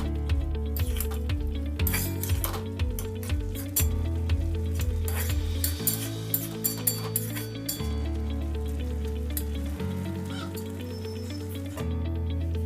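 A potato, spinach and peas curry sizzles in a pan while being stirred, a continuous frying crackle with occasional utensil scrapes and clinks over a steady background hum, no talking.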